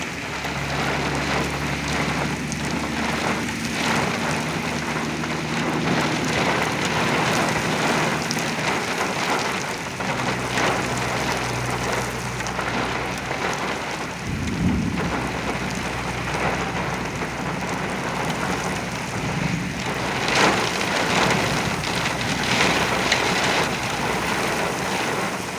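Very heavy rain pours steadily during a derecho storm in Oklahoma, a dense continuous roar with gusty wind surging through it and low rumbling underneath, lasting the whole stretch without speech.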